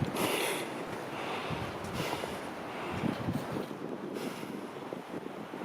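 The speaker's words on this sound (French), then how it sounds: "un petit peu de vent qui fait du bien" Wind gusts across the microphone on a mountain hiking trail at the Cirque de Gavarnie in the Hautes-Pyrénées, a steady rushing buffet with stronger surges, close and fairly soft, with no voices.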